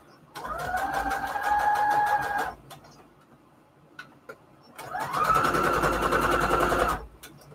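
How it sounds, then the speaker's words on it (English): A sewing machine runs a straight-stitch border on fabric attached to index cards, two sustained whirring bursts of rapid needle clatter separated by a short pause, close and fairly loud. "I do the straight stitch border around this"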